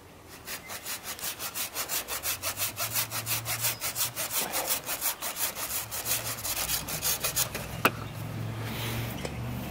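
Hand saw cutting through a tree branch, steady rhythmic back-and-forth strokes close by, about two per second, continuing for nearly ten seconds with no talk.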